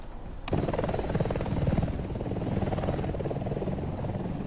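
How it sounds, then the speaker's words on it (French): Helicopter in the Roblox tank-combat game starts up with a sudden onset after half a second, then a steady, loud rotor-and-engine drone with a fluttering pulse that holds evenly to the end, no talk over it. "Pourquoi l'hélico décolle pas, là?"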